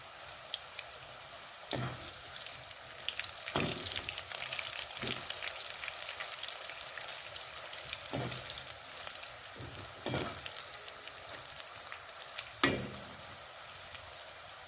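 Pieces of homemade neemki dough fry in hot oil, giving a soft, continuous sizzle with scattered sharp pops and crackles throughout.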